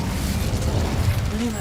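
Fiery Incendio spell cast in the Hogwarts Legacy video game, a loud, rumbling burst of flame lasting about a second and a half with a whooshing roar.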